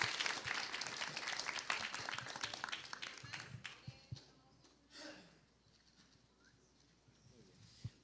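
Audience applause at a conference on conscientious objection, a dense burst of clapping for about four seconds that thins into scattered claps and fades, with light murmuring underneath.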